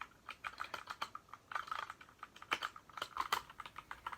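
Quick, fairly quiet keystrokes on a Royal Kludge 60% keyboard with red switches rattle in uneven bursts and short pauses, close up, like gaming input, with no voices.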